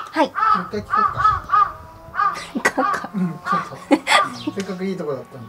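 A crow caws repeatedly outdoors at a folk performing-arts festival in Kitakami, several harsh calls in quick succession mixed with someone speaking and chuckling nearby.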